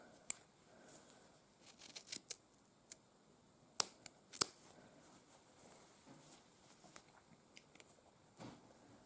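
Scissors snip through knitted fabric between two sewn seams of a steeked cardigan, producing faint, sparse clicks and crisp cuts at irregular intervals in a quiet room.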